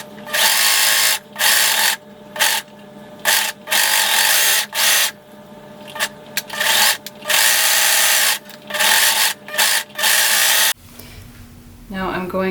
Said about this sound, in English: Now we're going to sew each seam with a serger or a zigzag and a 3/8 inch seam allowance.